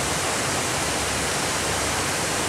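A waterfall at the Atlantis resort on Paradise Island, Nassau, gives a steady, dense roar of falling water. It is loud and even and continues without pause, with no voices.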